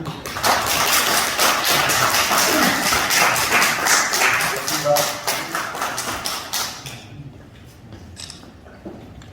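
Audience at a unification group's appointment ceremony in a hotel hall clapping loudly to welcome a speaker, dense applause for about seven seconds before it thins and fades into quiet scattered claps.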